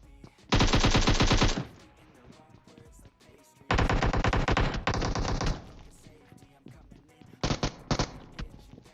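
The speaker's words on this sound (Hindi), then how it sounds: "अब वो भाई दबा के एकेएम तो चलाते हैं" AKM assault rifle fire in PUBG Mobile: three loud, sustained automatic bursts of rapid shots with pauses between them, the last burst short and broken.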